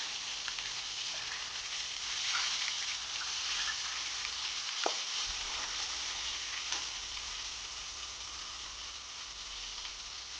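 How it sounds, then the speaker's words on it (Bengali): Fish heads frying in oil in a pan for a muri ghonto dish, giving a steady, fairly loud sizzle throughout with a brief clink near the middle and no talking. "এবার উল্টে পাল্টে আমি মাছের মাথাটা ভেজে নেব"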